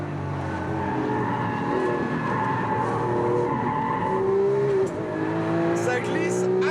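A Lamborghini Aventador with ceramic brakes braking hard on track, tires skidding and squealing in sustained high-pitched tones over a loud engine roar, with someone talking throughout.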